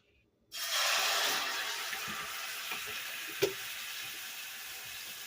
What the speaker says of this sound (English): To that, I'm going to add my sofrito.